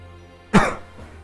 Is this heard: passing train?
no